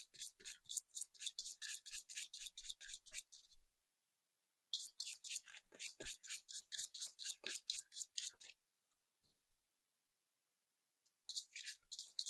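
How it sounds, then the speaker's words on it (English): Quick bursts of crisp, papery riffling as tarot cards are shuffled, in two long runs with a pause between, then a brief return; close and fairly soft, no voices. "So I'm gonna shuffle 3 times again, and I'm gonna cut the pile in 3."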